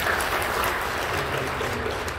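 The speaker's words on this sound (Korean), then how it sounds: "박수를 격려해 주시면 감사합니다." A church congregation at a New Year blessing service applauds, a steady dense clapping that fills the whole stretch at moderate level with no voices over it.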